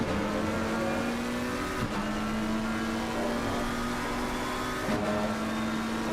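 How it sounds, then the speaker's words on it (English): A McLaren race car in a racing video game, heard from the onboard cockpit at Silverstone, roars continuously at high revs, with two brief dips in pitch at gear shifts. "the sound of that McLaren from inside the car is so good every time"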